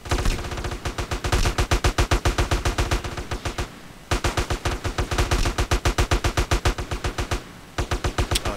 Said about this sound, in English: it's too risky when there's so many, like, gunshots everywhere.